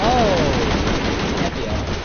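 Gunfire in Shadow of the Tomb Raider, sustained rapid machine-gun bursts heard loud and continuous with a brief descending tone at the start and game background noise underneath.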